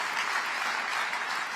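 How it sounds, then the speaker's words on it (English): A crowd applauds steadily, a dense even clatter of many hands clapping throughout. "give a round of applause."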